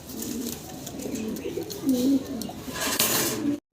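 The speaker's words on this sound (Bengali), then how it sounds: "বিশাল বিগ সাইজের ব্ল্যাক কালারের এখানে একজোড়া লাহরি কাটাবের সিরাজি কবুতর" Black Lahori Sherazi pigeons, a large breeding pair, coo in low throaty rolls close by, with steady background noise and brief clatter; the sound cuts off near the end.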